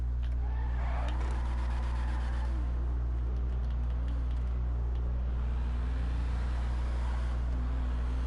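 The Dubachi Spectre sports car in GTA 5 drives with a steady low engine drone, its pitch rising and falling as it accelerates and shifts.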